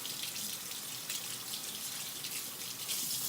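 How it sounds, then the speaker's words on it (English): A kitchen tap runs steadily while a tomato is rinsed underneath, a constant close hiss of water with slight splashing variations and no voices. "I'm gonna go ahead and wash it."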